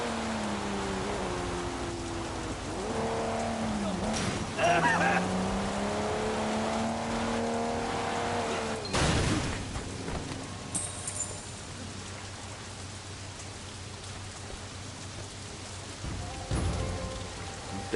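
Steady rain hisses over a Sleeping Dogs game scene, with car engine hum and revving tones rising and falling beneath it and a few sharp bursts of noise, all fairly loud and continuous.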